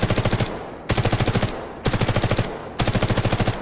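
Four bursts of automatic gunfire in the Delta Force video game, fired while the character holds breath to cut recoil, each rapid rattling volley about half a second to a second long, separated by brief pauses, loud and close.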